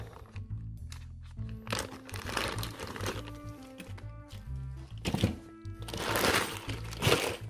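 A plastic bag of 50p coins torn and pulled open by hand, a close run of crisp crinkling and crunching bursts, with occasional dull thunks and little talk.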